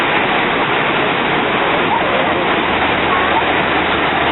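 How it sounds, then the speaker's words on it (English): Niagara Falls pours enormous amounts of water over its edge in a dense, unbroken roar that stays loud and even throughout, with no pauses or changes. "Enormous amounts of water just flowing over,"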